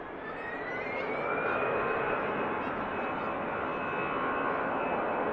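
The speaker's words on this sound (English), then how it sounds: "Just spooling up now, the EasyJet." EasyJet jet airliner spooling up for departure at Manchester Airport, a steady rising engine roar topped by a thin climbing whine, building gradually and holding loud from a moderate distance.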